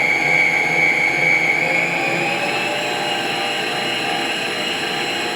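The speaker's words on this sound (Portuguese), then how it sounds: "Então eu vou ligar a batedeira na velocidade baixa" An electric stand mixer runs at low speed beating sponge cake batter with emulsifier, giving a steady motor whine whose high tone slowly drifts lower as it keeps going.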